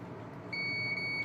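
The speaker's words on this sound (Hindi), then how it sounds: "कंटिन्यूटी पर रखेंगे और ये बीप का आवाज सुन लेंगे।" A multimeter set to continuity gives a steady high-pitched beep while testing an inverter AC compressor's terminals, starting partway through over a low background hum and holding clear and close to the end.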